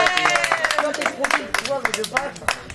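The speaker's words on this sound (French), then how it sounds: "il faut les applaudissements derrière" A small group claps and cheers in scattered, uneven bursts close by, with voices talking and calling out over the clapping.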